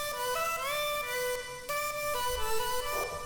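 A synth lead recreating the lead line of a song, heard alone, with a bright, harmonically rich tone carrying sustained melodic notes that glide and bend between pitches over a steady bed.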